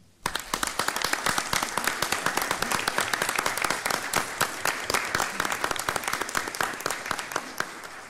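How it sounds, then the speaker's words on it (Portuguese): Audience applause during a formal court plenary session, a sudden burst of dense, crisp clapping that starts abruptly and stays strong and even for several seconds. "A todos, uma salva de palmas"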